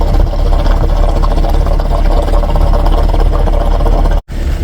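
A 2011 GMC Acadia engine idling with a faulty purge valve, a close, steady low mechanical chugging hum with slight RPM wavering, cut by a brief dropout near the end.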